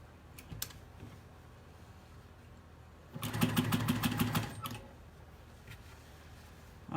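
A sewing machine runs in a short rapid burst of a couple of stitches through quilt fabric for a scrappy stained glass quilt with piano key borders. The burst is near and moderately loud, with quieter handling sounds around it and no talk.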